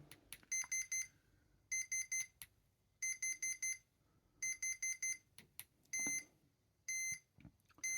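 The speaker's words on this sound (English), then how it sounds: "that long beep shows it's parameter 5" Clusters of high electronic beeps from a Hobbywing QuicRun WP 1080 G2 brushed ESC in programming mode sound in quick groups of three or four, separated by short pauses, with a few longer single tones, over near silence.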